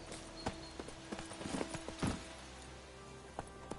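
Hooves of Roach, the horse in The Witcher 3, clop in a loose, uneven series of soft thuds, fairly quiet and close, some steps bunched together before trailing off.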